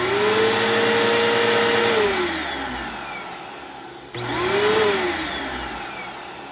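Bissell CleanView upright vacuum running with a whiny brush roll, a loud steady motor drone with a high whine that falls away as it powers down, then surges back up before fading again.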